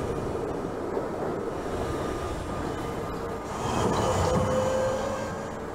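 A New York City subway J train from the Trainz Simulator 2012 game rumbles along the Myrtle viaduct, with steady rolling wheel and motor noise, swelling louder near the end as a faint squeal rises above it.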